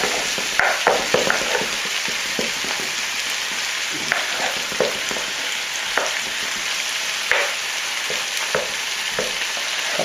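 Meat frying in a pan with onions for a curry, a loud, steady sizzle close by with intermittent stirring scrapes and clicks throughout.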